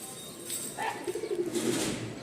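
Pigeons in a loft coo softly nearby in a short rolling phrase of low, throaty notes, with faint rustling in the background.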